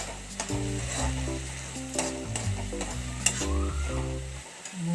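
Cabbage sautés in a pan with tomato, green chilli and curry leaves, giving a soft, steady sizzle broken by repeated scraping stirs of a spoon, close and unaccompanied by talk.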